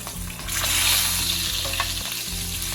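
Stuffed salmon sizzles loudly in a hot pan as it is flipped, a dense crackling fry that surges as the fillet turns, with a few soft scrapes and knocks.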